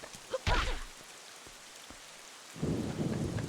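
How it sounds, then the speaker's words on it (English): Rain pattering down at night in the game Wind Waker HD, a faint steady hiss that swells louder near the end after a few brief bursts early on. "A little rain once in a while isn't bad at all."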